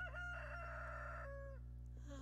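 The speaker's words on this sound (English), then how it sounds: "rooster crows way too early in the morning." A Stardew Valley rooster crows in the morning, one drawn-out cock-a-doodle-doo that rises and falls over a steady low game-music hum, close and clear with no talking.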